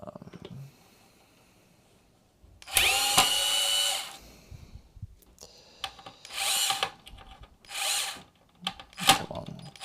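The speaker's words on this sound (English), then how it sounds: "So if I pop out these screws here" A power screwdriver removes screws from the casing of an Avatar PD705 electronic drum pad that has no power, whining in several short close bursts separated by quiet handling sounds.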